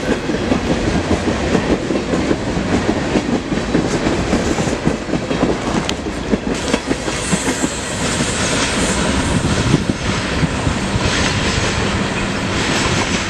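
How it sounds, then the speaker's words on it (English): A long Union Pacific oil freight train rolls past close by, a loud continuous rumble with rhythmic clickety-clack of wheels over rail joints throughout. "this is a Union Pacific oil train"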